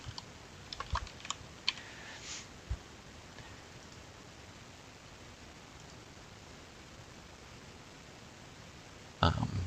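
Computer keyboard typing: a few faint scattered key clicks early on over a quiet hiss, then a long lull and a louder clatter at the very end.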